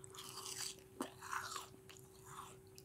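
A crunchy bite into a homemade copycat of a Panda Express dish, with a sharp crisp crunch near the one-second mark followed by softer chewing sounds, close and fairly quiet, with no talking.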